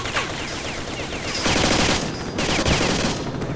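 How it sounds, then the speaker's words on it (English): Gunfire in STALKER: Shadow of Chernobyl, sharp distant shots and bursts crackling through the game's ambience, with louder volleys starting midway and continuing in uneven bursts. "Someone's shooting at me somewhere."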